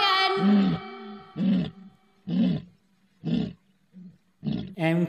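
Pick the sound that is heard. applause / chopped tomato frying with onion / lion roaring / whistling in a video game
lion roaring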